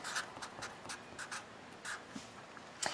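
Pen or marker writing an equation on a board or paper for a systems of equations lesson, a series of short scratchy strokes in an irregular rhythm, fairly faint and close, with no talking.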